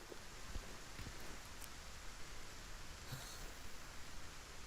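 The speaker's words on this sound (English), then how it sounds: "it's raining" Rain in Silent Hill 2 forms a faint, uniform hiss that holds steady from start to finish with no other sounds over it.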